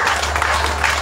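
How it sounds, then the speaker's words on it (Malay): A crowd at a USNO rally in Sabah applauds a Tan Sri who is deputy chairman of GRS, producing a brief burst of dense, steady clapping close at hand. "Sila berikan tepukan kepada Ayahanda Tan Sri."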